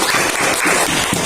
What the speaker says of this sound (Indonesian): kasih tepuk tangan untuk temannya semua.